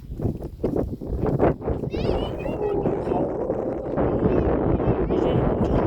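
Wind gusting across the summit of Phu Chi Fa in Thailand during rain, a loud steady roar buffeting the microphone under continuous talking from several people.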